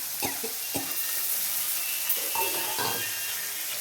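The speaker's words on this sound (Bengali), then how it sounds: "ভালো করে টমেটোটা একটু নেড়ে ছেড়ে নেবো" Tomatoes fry in a pan with capsicum and curry leaves for tomato rice, making a soft, continuous sizzle broken by a few distinct spatula stirs and scrapes.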